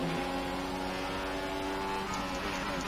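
Formula 1 cars in F1 2015 drone steadily at high revs after a restart, a continuous dense engine whine that stays loud and even throughout with no talking.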